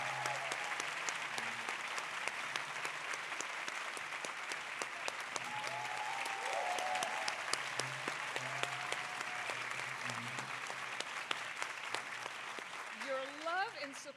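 A luncheon audience applauds for an honoree, a dense, continuous round of clapping that holds steady for the whole stretch, with faint voices and a few whoops mixed in underneath.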